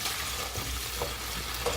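Cauliflower rice frying in vegetable oil gives a steady, close sizzle with light stirring scrapes, and no talking over it.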